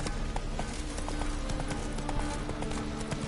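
Roach the horse gallops in The Witcher 3, a steady rapid clip-clop of hooves close and loud over continuous game ambience and music, with no one talking.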